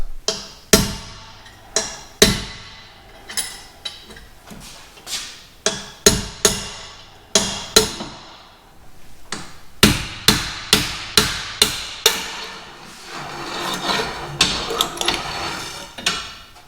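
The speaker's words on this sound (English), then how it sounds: "So I'm going to hammer on the end of that and just basically pop out this axle seal." A hammer strikes the end of a pry bar to pop out an axle seal on a Jeep Wrangler Dana axle, sharp metallic bangs landing singly and then in quicker bursts, loud and close with no talk.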